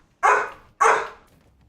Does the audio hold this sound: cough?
no